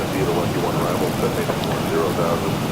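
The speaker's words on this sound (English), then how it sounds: "I can hear rain slamming against the garage door right now" Rain pounding against a garage door in a home setting makes a steady, dense broadband wash that stays even and continuous throughout, with no distinct drops standing out.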